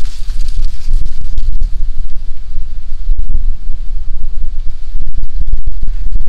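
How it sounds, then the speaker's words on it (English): Strong March wind in East Texas buffets the microphone outdoors as a loud, continuous roar with gusty crackling bursts, and no voices are heard. "I hope you can hear me over the wind"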